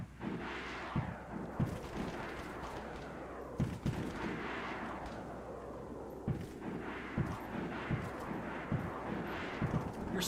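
Rapid bursts of gunfire in the survival game DayZ aimed at an aircraft, sharp repeated cracks in irregular clusters over a rumbling background, fairly loud and with no talking.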